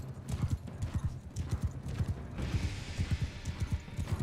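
Horse hooves in Mount & Blade II: Bannerlord, a steady fast clip-clop of galloping with rhythmic thudding beats and faint creaking of tack, continuous and close throughout.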